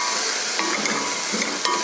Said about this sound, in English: Already boiling our beef,